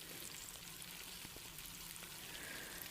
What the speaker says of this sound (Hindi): एक साइड से फ़िश के पकौड़े फ्राई हो गए थे,